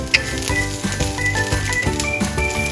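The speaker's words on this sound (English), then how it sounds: "add the broccoli and stir-fry together." Vegan chicken pieces and fresh broccoli are stir-fried together in a pan, with steady crackling sizzle and clinks of a utensil against the pan in a quick, busy rhythm, close up and with no talk.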